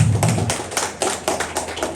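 Audience applause at a tourism development coordination meeting on Nusa Penida, a short burst of rhythmic hand claps, fairly close and steady, with no talk over it.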